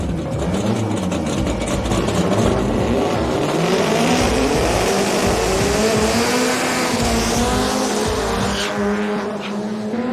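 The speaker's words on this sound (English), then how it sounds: "Lots of tire smoke going out. Huge amount of burnout." Drag race car at a night drag meet doing a long tire-smoking burnout, a loud, steady engine roar with rising and falling revs and screeching tires throughout, close and continuous with no talk.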